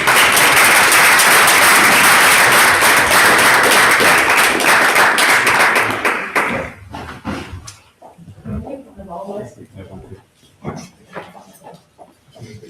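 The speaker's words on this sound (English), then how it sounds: "Once again, a round of applause for our food" Loud, dense applause from a board meeting audience rings out for about six seconds, then breaks off into scattered voices and room chatter.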